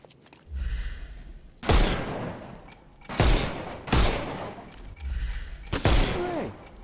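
Bursts of gunfire from the Sherlock Holmes Chapter One video game, four loud separate volleys spaced a second or two apart, each a sharp crack with a ringing tail over a quiet low background.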